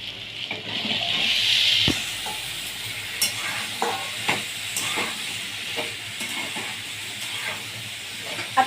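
Vegetables tipped into a hot pan with a spoonful of ground masala paste for a traditional Bhogi mixed-vegetable dish, a steady close sizzle with stirring scrapes and occasional clinks, no talking.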